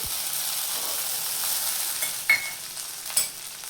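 Green chilli thecha with garlic, salt and coriander is stirred and fried in oil, making a steady close sizzle broken by two sharper scraping clinks of the spoon.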